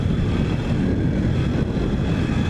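Yamaha Ténéré 250 motorcycle accelerating through town, a steady, loud engine drone blended with heavy wind rush that holds unbroken for the whole stretch, with no talking.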